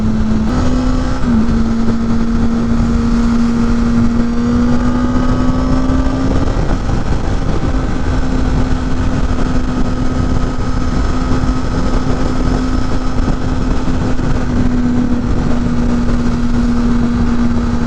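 A motorcycle commuting through highway traffic while lane splitting gives a steady, loud engine drone for the whole stretch. The pitch shifts slightly early on and then holds an even note under constant road and wind noise.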